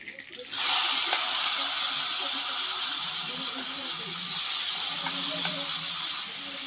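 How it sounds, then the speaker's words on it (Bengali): Potatoes for chowmein hit hot oil in a pan and break into a loud, steady hissing sizzle that holds for several seconds and eases slightly near the end, with a voice faintly underneath. "আমি যে আলুটাকে ভেজে নেবো"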